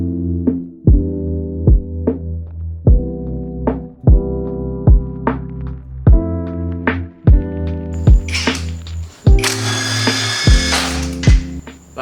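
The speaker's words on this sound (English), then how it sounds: "we're just going to jack up this side." Trolley jack being pumped under one side of a classic Mini's front subframe: a steady series of ratcheting clanks roughly every second, close and loud, with a brief burst of harsher metallic rattle near the end.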